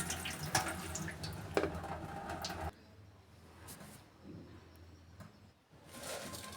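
Curry leaves are rinsed under a running tap, giving a splashing stream of water that flows strongly for a few seconds, then drops to a quieter trickle with faint handling sounds.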